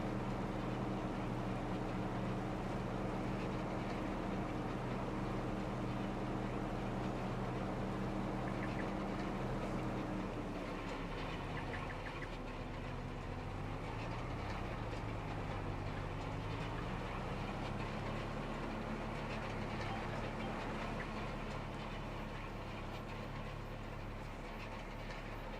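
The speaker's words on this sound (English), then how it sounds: "you can hear more from the tractor here, then hear more of the roller here" A tractor pulling a roller drives across a field in the Farming Simulator 25 video game, its engine drone steady and loud throughout, with the pitch shifting midway as the machinery turns, alongside a rumbling roll.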